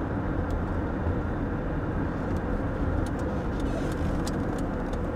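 Interior of a 1986 BMW E30 with a 2.7 liter engine cruising at 55 mph just under 2,000 RPM, a steady low rumble of engine and road noise, even and constant with faint light ticks above.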